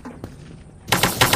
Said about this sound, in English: Someone's trying to shoot me.